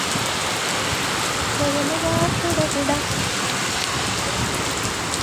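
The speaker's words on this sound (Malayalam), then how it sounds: "മഴ പെയ്യുന്ന കണ്ടോ. ഒന്ന് പുറത്ത് പോകാൻ പോലും പറ്റുന്നില്ല, നല്ല മഴയായി." Heavy rain pours down in Dubai, a dense, loud, constant hiss of drops hitting surfaces, with a brief faint tonal sound midway.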